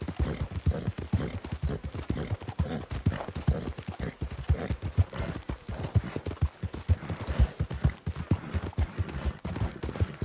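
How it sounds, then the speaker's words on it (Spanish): Steady hoofbeats of a trotting horse in the video game Red Dead Redemption 2 clop in an even, rapid rhythm throughout, moderately loud with a faint background hum. "Teniendo el compás del trote del caballo, es como apenas se cansa."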